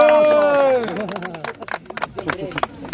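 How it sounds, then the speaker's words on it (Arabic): Scattered clapping from a street-show crowd honouring a performer who drinks caustic water, breaking out after a sung or called-out phrase and continuing as uneven bursts with loose crowd noise. "صفقوا على السيد كيخوي المقاطع"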